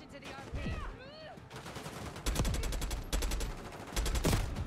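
Rapid automatic enemy gunfire rattles in bursts in Call of Duty Black Ops 6, loud and close, with other game sounds between the volleys.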